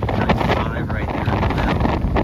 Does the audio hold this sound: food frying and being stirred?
no